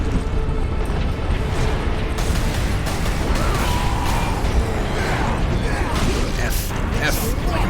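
Bolt pistol fire and melee combat in the Space Marine video game, dense bursts, pops and impacts layered over a continuous loud mechanical game soundscape, with a voice talking over it.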